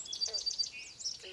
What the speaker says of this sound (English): you can hear song sparrows, common yellowthroats, yellow warblers